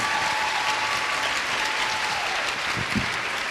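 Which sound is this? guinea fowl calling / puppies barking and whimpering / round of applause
round of applause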